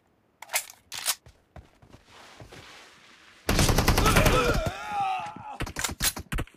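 M416 rifle fire in a video game, scattered single shots early, then a dense, loud sustained burst of automatic fire, followed by a few more sharp reports.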